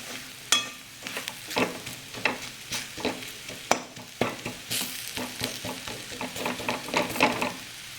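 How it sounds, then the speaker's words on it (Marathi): Food fries and sizzles in a pan over a low gas flame, a soft crackling bed punctuated by repeated scraping stir strokes, close and fairly quiet. "अगदी गॅस आहे ना बारीक करायचा, मंद गॅसवर होऊन द्यायचं"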